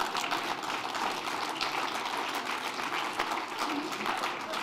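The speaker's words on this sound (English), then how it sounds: "Is that you clapping because you could calculate what that meant?" A steady, fairly distant patter of audience clapping fills a lecture hall, sustained and even throughout with no voice on top.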